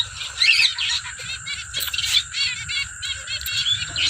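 Pet breeder finches in a home aviary chirp in quick, bright bursts of repeated notes, close and lively throughout, with no talk.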